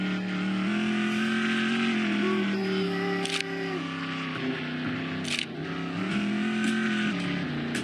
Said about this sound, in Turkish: Araba takıldı. Kaza yaşandı.